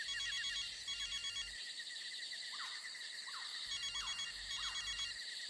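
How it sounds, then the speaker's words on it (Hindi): An electronic phone ringtone trills in repeated bursts with brief pauses, steady and fairly faint, with no voices. "सर, घंटी जा रही है सर।"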